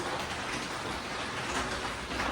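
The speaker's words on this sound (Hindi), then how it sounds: "बारिश रुकने का नाम नहीं ले रहा है" Rain falls steadily outside a home during the monsoon, a soft, even hiss of drops with no voices.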